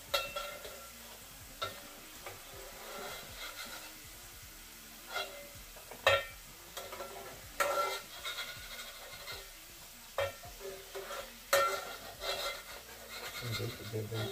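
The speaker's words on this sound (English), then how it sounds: "So it's just finishing them off in the hot oil." Blanched Lyonnaise potatoes finishing in hot oil, a faint steady sizzle with soft scraping stirs and occasional clinks, under quiet speech.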